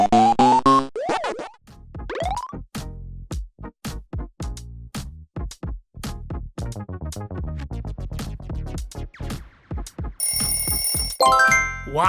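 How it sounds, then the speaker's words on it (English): Pac-Man arcade video game sounds play loud and alone: a rising electronic start jingle, then a rapid string of short repeated bleeps and chomps, ending in a bright buzzy tone burst. "It's Pac-Man! Pac-Man is on the move!"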